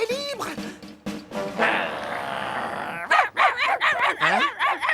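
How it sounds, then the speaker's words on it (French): Cartoon dogs bark and yip repeatedly in a rapid, loud series, with whimpering tones and a sustained whine in the middle, followed by a burst of sharp barks near the end. "c'est sur moi que vous aboyez là"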